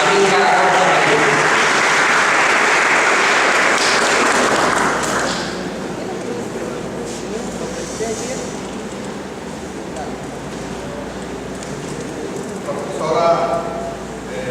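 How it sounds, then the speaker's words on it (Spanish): An audience at a forum on the free trade agreement in La Guajira breaks into loud applause to welcome a speaker, which fades after about five seconds into murmuring and talk, with a brief swell near the end. "Quiero que lo reciban con un fuerte y cariñoso aplauso al doctor Amílcar Acosta Medina"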